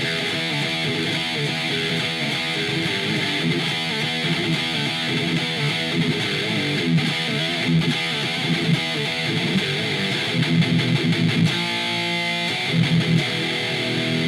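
A thick, heavily distorted electric guitar amp tone, played through Amplitube CFH Collection, plays continuously with loud chugging riffs, dense and saturated throughout, with no voices.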